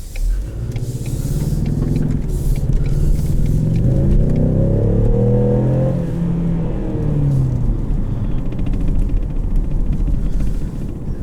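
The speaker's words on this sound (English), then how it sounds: "You do not have to wind this motor out like you do the GT to get your power." The turbocharged engine of a 2020 Ford Mustang EcoBoost automatic convertible, close to 300 horsepower, pulls hard under acceleration, heard from inside as a loud, steady rumble that climbs in pitch and settles as it shifts.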